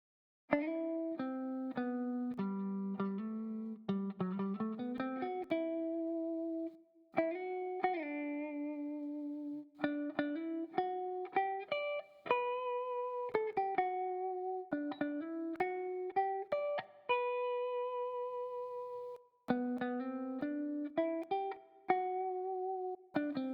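Clean electric guitar notes through a Crate Blue Voodoo BV 6212 amplifier's clean channel ring out in short melodic phrases, each plucked note sustaining briefly before the next, with pauses between runs.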